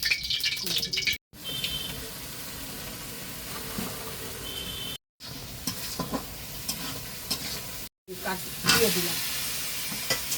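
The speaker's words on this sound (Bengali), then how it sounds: "মাংস আর কাঁঠাল রান্না দিলাম" Chicken and jackfruit cook in oil in a wok with steady sizzling and frying hiss, broken by scraping stirs and clanks, and the sound cuts out briefly a few times.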